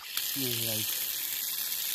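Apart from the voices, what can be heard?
clear mountain spring water flowing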